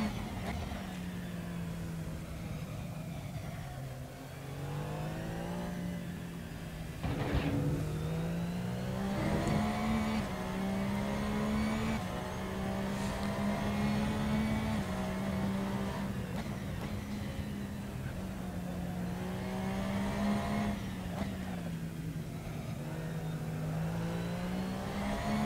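A race car engine laps the Nürburgring in the driving game Assetto Corsa on PS4. It is a steady, droning engine note that rises and falls with gear changes and throttle, with occasional revving peaks and no voices over it.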